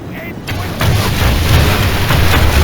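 Marksmen fire into enemy ranks during a Third Age Reforged battle, a dense, loud crackling battle din that swells and holds steady after a brief quieter start.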